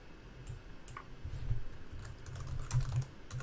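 Keys clatter on a computer keyboard in a nearby run of uneven taps and clicks, with short bursts and brief pauses and no talking.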